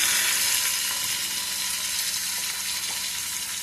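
Tomatoes, green chillies and turmeric sizzling in a hot pan, a steady close frying hiss with faint stirring clicks and no talk.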